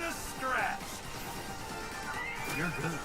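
Horses whinny repeatedly in the Wild West chapter of the video game Live A Live, with clip-clopping hooves and game sound effects underneath, while a player talks over the action.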